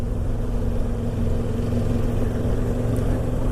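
A CF Moto 650 MT motorcycle engine chugs steadily in third gear at about 24 miles an hour, a low, even mid-pitched drone with a constant rumble and no speech over it.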